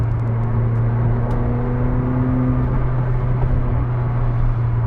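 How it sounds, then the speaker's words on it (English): A McLaren 765LT engine hums with a steady low drone and a faint whirring, whistling turbo tone above it, loud and close with no talking. "Here's some turbo noise."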